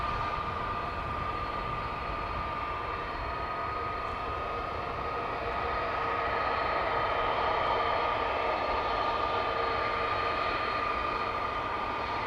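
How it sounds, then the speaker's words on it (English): A Delta Airlines Airbus A330-300 jet departing Amsterdam Schiphol at night, a steady loud engine roar with a sustained whine, continuous and unbroken from start to finish. "This is Delta Airlines Flight 91 to Orlando in Florida, A330-300."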